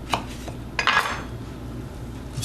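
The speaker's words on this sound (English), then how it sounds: "Now let's just give it a little stir." A metal spoon stirring a pot of cooking food with tomatoes and jalapeno pepper, giving a few light clinks and a brief scraping swirl close by, with no talk.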